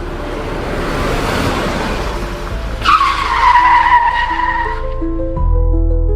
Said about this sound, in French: On entend une voiture s'arrêter devant la maison.